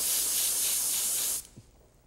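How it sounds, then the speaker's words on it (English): A spray gun applying Kameleon Kolors paint lightly over a stencil gives a steady close hiss that cuts off abruptly after about a second and a half, leaving faint handling noises. "I'm spraying so lightly."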